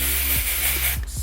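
A dry scalp spray infused with apple cider vinegar hisses out in a steady, close mist for about a second, with no talking.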